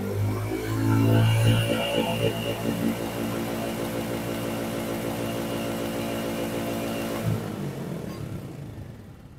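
A Royal Enfield Classic 350 motorcycle engine idles and is revved, a loud, steady thumping single-cylinder rumble that swells early on, holds at higher revs, then drops away near the end.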